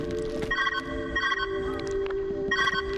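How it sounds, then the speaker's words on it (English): Electronic ringing tones chime in repeated bursts inside the puzzle video game Viewfinder, ringing out clearly over a steady low hum with faint background sounds between rings. "Where's that ringing coming from?"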